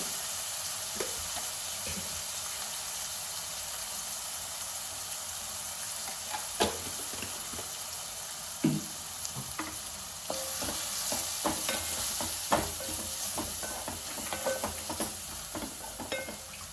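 Turmeric going into hot oil for a dried shrimp curry, a continuous close sizzle and hiss with scattered clinks and scrapes of stirring against the pan, no voices.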